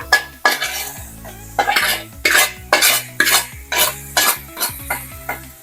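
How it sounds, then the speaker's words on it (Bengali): Chicken pieces being stirred in a pan for curry, a metal spatula knocking and scraping the pan in a regular rhythm of sharp strokes over light frying, close and clear, with no voices. "আমি এখনই আসলে এটার মধ্যে চিকেনটা দিয়ে দিতে চাচ্ছি দিয়ে হচ্ছে আমি কিছুক্ষণ কষাবো চিকেনটাকে"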